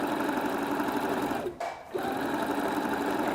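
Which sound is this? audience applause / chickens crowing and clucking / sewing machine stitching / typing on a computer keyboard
sewing machine stitching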